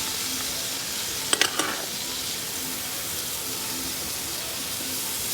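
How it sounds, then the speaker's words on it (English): Garlic and onion sizzling in hot sesame oil, a steady frying hiss throughout with a few sharp clinks of a utensil stirring the pan early on. "stir that up a little bit in my sesame oil"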